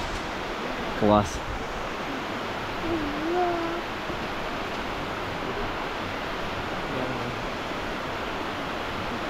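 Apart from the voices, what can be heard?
cascading waterfall and river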